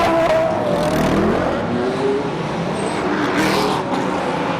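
FIA GT1 race cars accelerating away from a safety-car start at Moscow Raceway in 2012, a dense, steady engine roar with rising revs from several cars at once, loud and continuous throughout.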